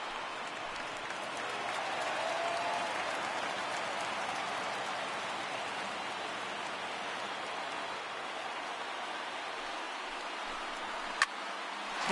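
Stadium crowd in the MLB The Show 19 baseball game gives a steady, dense roar of cheering for the whole stretch, with a single sharp click near the end.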